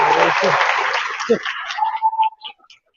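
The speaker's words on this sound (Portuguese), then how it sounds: "Aplauda o Senhor pela vida dele" A church congregation at a Lord's Supper service applauds loudly, the clapping holding steady before thinning and fading away to silence within a few seconds.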